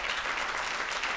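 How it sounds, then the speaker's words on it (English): A crowd at the 2019 NAACP Freedom Gala gives a brief, dense burst of applause that is steady and fairly loud. "Let's give her some applause."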